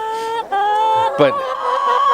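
Hens cluck and squawk in short, close bursts, a few overlapping calls with a brief sharp cackle in the middle.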